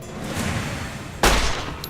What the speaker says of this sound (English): Shoot them up! Kill enemies with guns!